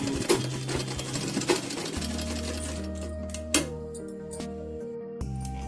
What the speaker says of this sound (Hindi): इस तरह से पूरे में इसको मैं सिलाई चला दूंगी।